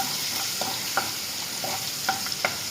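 Crushed ginger sautés in a hot pan with a steady sizzle, and a spoon scrapes and stirs it now and then.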